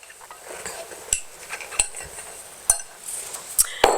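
A utensil mixing dry flour ingredients into a creamy lemon batter in a bowl, soft scraping strokes punctuated by several sharp clinks against the bowl, close and fairly quiet.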